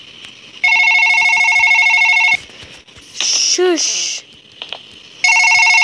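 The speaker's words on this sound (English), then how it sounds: "I'm closing my door because I'm getting a phone call." Telephone ringing with an incoming call late at night, two loud electronic ring bursts with a gap between them, close by, and a person speaking briefly in the gap.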